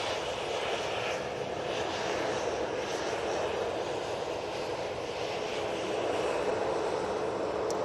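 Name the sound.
airliner departing to Agadir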